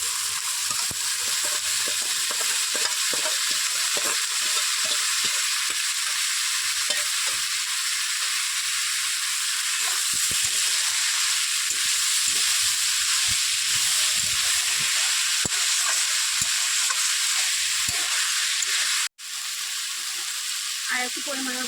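Banana flower fries in a pan with a loud, constant close sizzle that never lets up, broken once by a single sharp knock near the end.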